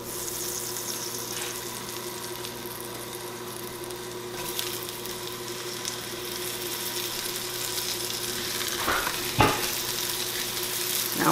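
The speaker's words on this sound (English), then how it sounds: "Melt your butter in your pan" Onions frying in melted butter in a pan, a continuous close sizzle with an occasional clack and scrape of a utensil, steady and moderately loud, with no talk.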